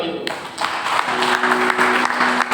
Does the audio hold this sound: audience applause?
yes